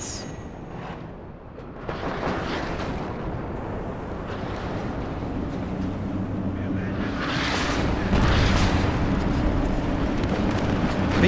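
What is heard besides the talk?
Malka artillery salvos firing in video game WARNO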